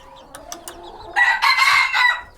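Mixed-breed chickens on a ranch, with a few soft clucks up close followed by a loud, drawn-out rooster crow that carries to the end.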